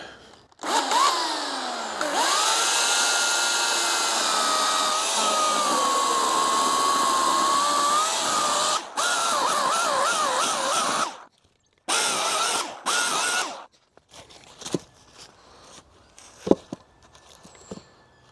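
A chainsaw cuts firewood into roughly 20 cm lengths, its engine whining up and down through a long cut and then a shorter cut. Quieter knocks and rustles follow as it idles down.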